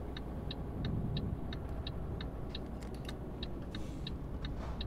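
A truck drives in the Euro Truck Simulator 2 multiplayer game at a gentle 50, its engine a steady, close drone with a regular light ticking running over it throughout.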